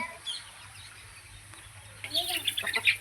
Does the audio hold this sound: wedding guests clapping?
no